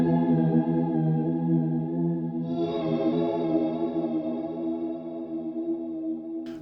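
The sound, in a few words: Walrus Audio Slöer reverb pedal modulation, mix full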